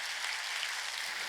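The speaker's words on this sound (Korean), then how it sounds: "빨리 박수 치라는 거예요." A church congregation claps during a Sunday worship service, a dense, steady burst of loud applause filling the hall.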